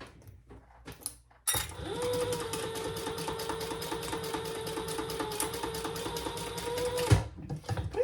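A sewing machine bastes a fabric tab onto the top of a bowler bag, running in one steady, even whir for about five seconds after a few handling clicks, then stopping.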